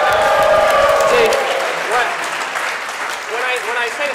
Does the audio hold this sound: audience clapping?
yes